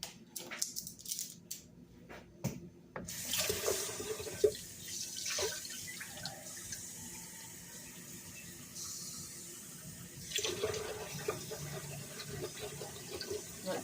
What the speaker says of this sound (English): I'm going to add a little bit more water in